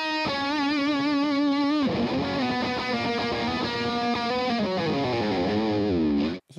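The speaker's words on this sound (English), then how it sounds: "And now the solo guitar that has this sound." A distorted electric guitar plays a solo line alone through an Apollo Twin X interface, sustained bent notes sliding into faster melodic phrases, loud and saturated, then cutting off.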